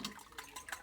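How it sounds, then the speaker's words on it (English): A small amount of water is poured into eggs, giving faint, soft splashing and trickling in a few quick pulses, quiet and close. "I like to put just a drop of water in my eggs"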